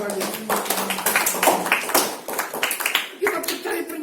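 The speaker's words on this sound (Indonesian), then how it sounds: "Tepuk tangan dulu sama Tuhan Yesus" A church congregation claps for Jesus at a New Year service, quick scattered hand claps running through the whole stretch beneath a speaking voice.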